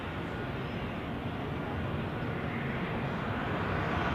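Airliner taking off at Zurich Airport, a steady broadband engine roar heard from a distance, even in level and holding without letup.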